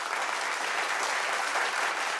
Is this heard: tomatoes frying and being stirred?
no